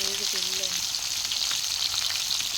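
Fish frying in a pan, a close, steady crackling sizzle throughout, with a few brief tonal beeps at the very start.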